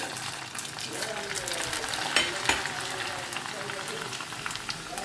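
Cornflakes sizzle and crackle in hot oil on a low flame for a Diwali chivda, a steady dense frying hiss with small pops and a couple of stirring knocks, while someone talks over it.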